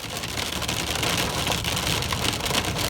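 Heavy rain pours steadily during a storm in Alanya, a dense, continuous hiss of drops hitting surfaces at even loudness from start to finish, with no voices.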